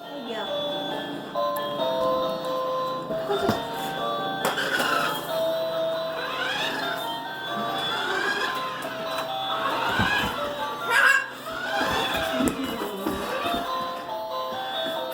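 A jingle tune plays from a toy RC food truck, its bright repeating melody running steadily under nearby talk.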